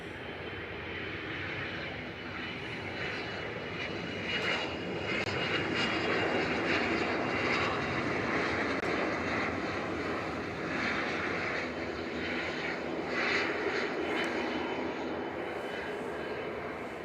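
A NetJets Cessna Citation business jet arriving from Farnborough at Manchester Airport, a steady broadband engine roar lasting throughout, swelling slightly mid-way, with faint voices in the background.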